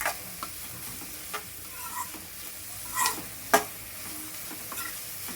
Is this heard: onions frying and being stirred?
yes